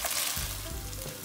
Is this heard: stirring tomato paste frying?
yes